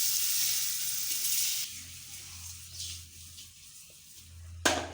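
Eggs dropped into hot oil seasoned with chili powder and spices for egg biryani, frying in a pan with a steady close sizzle and a brief sharp clink near the end.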